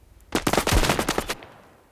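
Rapid automatic gunfire from a shooter video game, a tight burst of about a dozen loud, close shots lasting roughly a second, then fading.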